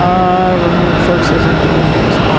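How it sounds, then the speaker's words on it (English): A Boeing 777 with Rolls-Royce Trent engines gives a steady, loud engine roar with a tonal whine at an airport, while people talk underneath. "So this 777's running the Trents."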